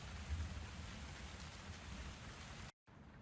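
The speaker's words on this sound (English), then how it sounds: "Oh, it be raining." Steady rain falling on surfaces in the Tavern Talk video game, a dense even patter throughout that cuts out abruptly near the end before resuming quietly.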